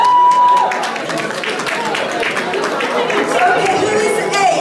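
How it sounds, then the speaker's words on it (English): A crowd at a Black History Month community quiz event gives light, scattered applause for two children who won, with voices and chatter mixed in under the clapping. "Please, let's give them a clap."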